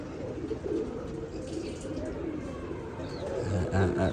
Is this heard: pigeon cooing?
yes